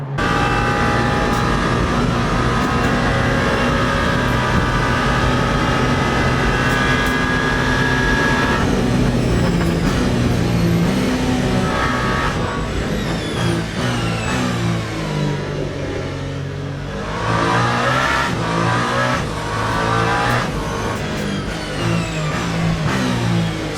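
A race car engine in the Le Mans Ultimate sim at the 24 Hours of Le Mans roars steadily near the Mulsanne corner, holding a loud sustained drone with gear shifts, easing off briefly around the middle, then building again, with no speech.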